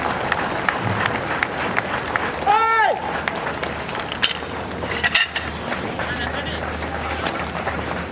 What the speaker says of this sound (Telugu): కాబట్టి మనం కూడా పెద్దగా చప్పట్లు కొట్టేద్దాం